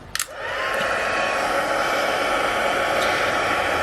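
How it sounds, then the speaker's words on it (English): A heat tool blows continuously over stamped ink on a card to emboss it, a steady close whooshing hum of fan and hot air starting after a brief click and holding level throughout. "I'm going to use a heat tool, and I'm going to heat this up just until it turns shiny."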